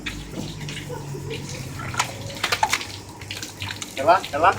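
Water splashes and pours into a bucket with a hollow, uneven gush, close up, during an ice bucket challenge in Heraklion, Crete, while voices talk nearby and a few clinks sound near the end.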